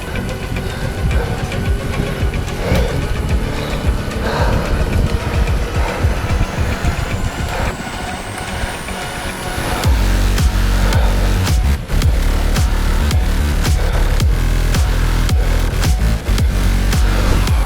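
Steady mechanical whir and rhythmic drone of an indoor bike trainer during an Ironman training session, loud and continuous with a tone rising over the first half, then a heavier, denser drone once effort increases, no talking.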